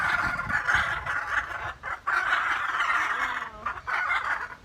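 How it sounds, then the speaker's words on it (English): Hyacinth and blue-throated macaws call at a zoo, giving loud raspy squawks and harsh chattering cries in rapid bursts, close and continuous with brief pauses. "we come out to some macaws as they are making themselves known"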